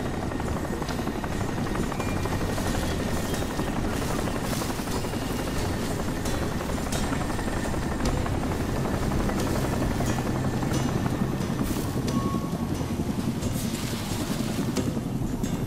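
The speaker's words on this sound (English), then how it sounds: "Helicopter! And I can't see you." A helicopter in the video game Crysis drones steadily with a fast rotor thump and engine whine, loud and continuous across the whole stretch with no speech over it.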